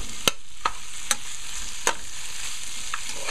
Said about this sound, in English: just like to fry down and blend well with the masala